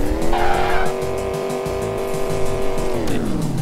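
A car stuck in the video game Envirobear, wheels spinning: a loud, sustained tire squeal over a steady engine drone, with the pitch sliding down near the end, and no talk.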